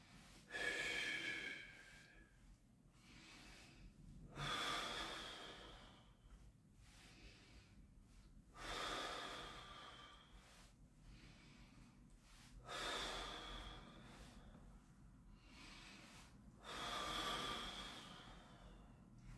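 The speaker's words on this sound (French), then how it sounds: "Alors on fait 5 fois. 5 respirations." Slow, deep breathing paced for a seniors' gym exercise: five long audible inhale-exhale cycles at a steady rhythm of about four seconds each, close and clear, with no talking.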